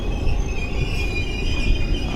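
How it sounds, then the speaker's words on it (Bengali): The 12346 Saraighat Express passenger train, running from Guwahati to Howrah, gives a continuous high-pitched wheel squeal over a steady low rumble, heard close and loud at an empty station. "এই হচ্ছে আমাদের ট্রেন"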